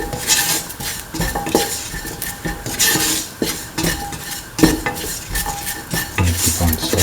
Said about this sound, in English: And keep on sauteing, mixing.